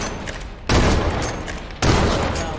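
Two loud bursts of rapid video game gunfire hammer at a wall, each sustained volley lasting about a second with a brief pause between them.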